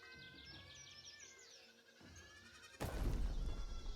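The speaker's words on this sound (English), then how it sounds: "I'm hearing all the goats just meh." Several goat-like bleats with wavering pitch over a steady background from the Viking settlement-building video game Land of the Vikings, followed by a sudden loud rush of noise near the end.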